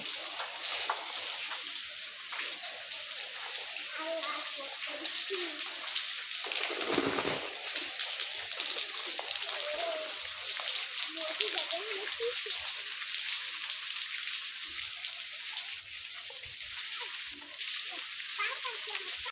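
Steady rain falling outside a home on a wet day, a continuous dense hiss of drops lasting throughout, moderately loud and unbroken, with no talk over it.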